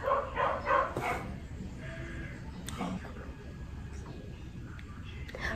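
A dog barks a few times in quick succession nearby at the start, then quieter yips and whimpers follow under a person talking.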